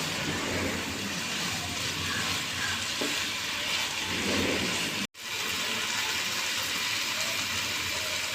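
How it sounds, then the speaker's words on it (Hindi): Chicken pieces frying in a pan with spices, a steady loud sizzle that runs unbroken except for one sharp momentary dropout midway, with occasional stirring scrapes and no talk. "चिकन को 10 मिनट तक हम अच्छी तरह से फ्राई करेंगे।"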